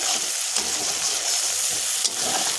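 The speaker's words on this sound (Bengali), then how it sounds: "আবার একটু নাড়াচাড়া করে নেব।" Spiced masala paste frying in a pan for a pangas and tengra fish curry, a steady close sizzle with soft scraping as it is stirred, continuous and fairly loud throughout with no voices.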